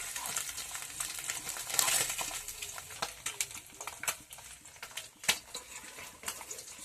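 Singi fish frying in hot oil throws off scattered sharp pops and crackles over a faint sizzle, spattering irregularly at moderate distance and fairly quiet overall.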